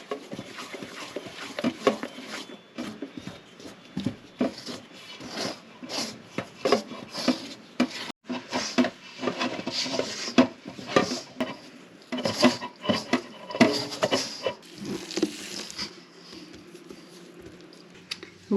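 Lemon biscotti dough being mixed in a bowl, with irregular scraping, rubbing and clinking strokes at moderate loudness that go on throughout, with no voices.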